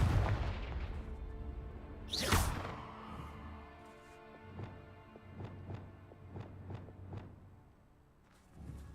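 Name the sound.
Confringo explosive spell blasts in a Harry Potter video game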